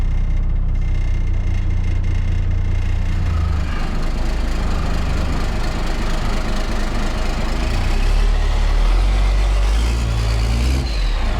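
An old engine in an abandoned Lincoln Continental motorhome runs during a test drive with a loud, steady low rumble that swells slightly toward the end, close and continuous with no voices.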